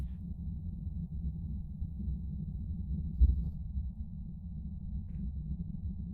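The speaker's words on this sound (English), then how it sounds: "I keep hearing like a heartbeat, like just like a single one." A single deep, muffled thump, like one heartbeat, sounds in the Phasmophobia ghost-hunting game, rising once from a steady low rumble.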